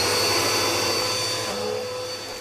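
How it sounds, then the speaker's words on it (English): A vacuum cleaner runs steadily with a loud, constant whooshing roar and a thin high whine. The motor hum holds even throughout and dips slightly near the end. "Why, it's a vacuum."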